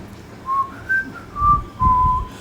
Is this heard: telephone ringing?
no